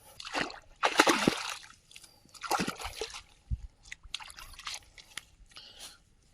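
Water splashes and sloshes in several uneven bursts as a foot is washed clean of mud at the edge of a village pond, close up, with short dripping pauses between the splashes.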